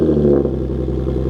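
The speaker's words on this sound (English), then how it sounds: "Let's see how better the car sounds." Nissan G37 sedan fitted with a Motordyne catback exhaust idles and revs, giving a steady low rumbling drone with slight clatter, close and continuous, with no talk.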